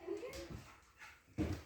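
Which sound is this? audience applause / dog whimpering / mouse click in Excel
dog whimpering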